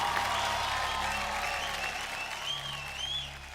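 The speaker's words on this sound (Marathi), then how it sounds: "जोरदार टाळ्या होऊन जाऊ द्या चांदणीसाठी." Sustained applause from a television studio audience for a dancer at a Marathi dance competition stage, steady and dense clapping throughout with a faint low hum beneath.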